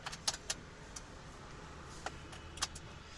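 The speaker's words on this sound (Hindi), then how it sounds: "और गाड़ी का जो की स्विच है उसको ऑन करेंगे।" A key turns in the ignition switch of a Maruti car, producing faint jangling of keys and a few sharp, light metallic clicks spaced out over a quiet background hum.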